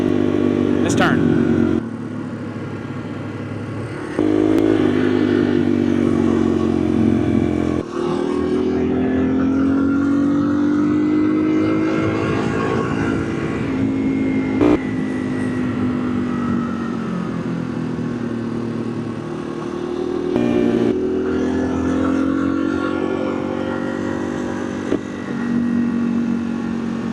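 Motorcycles rumble and rev along the winding Tail of the Dragon road. A steady, close engine drone rises and falls through the curves, with riders talking over it.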